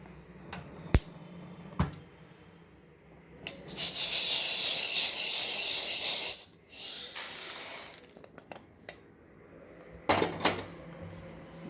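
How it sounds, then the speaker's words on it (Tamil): Lentils dry-roasting in a pan make sharp clicks, then bursts of scraping and rustling as they are stirred and tossed, with a few knocks of the pan between, and no voices. "கருவை விடாத எல்லாம் வறுவலாக வறுத்துக்கணும்"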